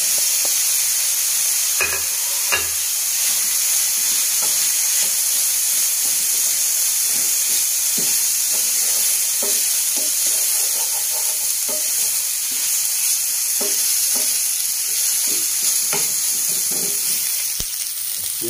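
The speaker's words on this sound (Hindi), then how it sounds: "इसमें हम प्याज डाल देंगे और साथ शिमला मिर्च डाल देंगे।" Onion and capsicum fry in a pan with a constant, bright sizzle, broken by scraping and stirring sounds throughout, and nobody speaking.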